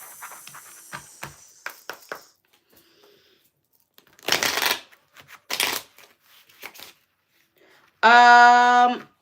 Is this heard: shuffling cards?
yes